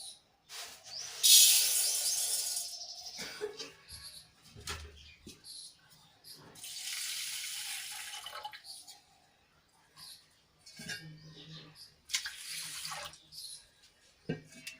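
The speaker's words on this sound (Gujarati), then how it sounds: "એને આપણે બેથી ત્રણ પાણીથી ધોઈ લઈશું" Water swishes and splashes in bursts as rice is rinsed, with quiet pauses between each round of sloshing.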